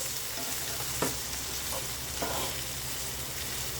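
Steady, crackling sizzle of chayote and carrots frying in a pan, with occasional soft scrapes and clinks of stirring.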